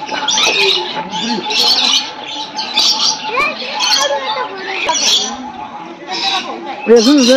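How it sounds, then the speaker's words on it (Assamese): A flock of lovebirds at a zoo squawks and chirps nonstop, shrill calls overlapping into a loud, busy chatter close by. "লাভ বাৰ্ড"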